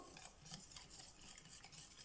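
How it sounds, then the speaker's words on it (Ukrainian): Soft, repetitive scraping and swishing of a utensil stirring thick pancake batter with sifted flour in a bowl, quiet and close. "перемішуємо"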